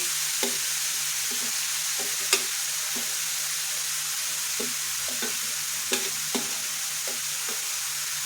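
Finely chopped carrots and beans frying in a pan as momo filling, a continuous bright sizzle with regular spatula taps and scrapes roughly every half second, close and without speech.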